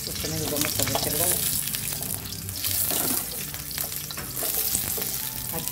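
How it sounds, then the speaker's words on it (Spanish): Onion and three garlic cloves fry in a pan for chicken mixiotes with nopales, giving a loud, steady, dense sizzle that runs throughout, with brief stirring and clatter. "Y continuamos a freír la cebolla y los dientes de ajo"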